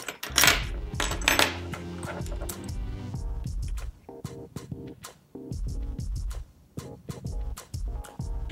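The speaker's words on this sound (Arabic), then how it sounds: "Put 3 keys on one side, 2 keys plus spaces or ring." Metal keys clink and rattle sharply as they are fitted onto a compact smart key organizer, with bursts of jangling, then scattered separate taps and clicks up close.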